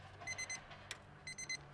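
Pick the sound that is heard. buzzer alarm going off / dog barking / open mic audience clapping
buzzer alarm going off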